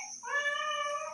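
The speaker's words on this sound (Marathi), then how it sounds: "कोणाला लाईव्ह मध्ये बघायचं होतं मांजर." A cat meows once, a clear drawn-out mew heard close up and alone, with a quiet room behind it.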